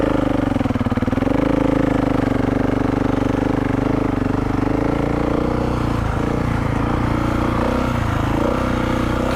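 A hot motorcycle engine runs steadily up close with a strong low drone and a faint rise in revs, held continuously with no voices over it.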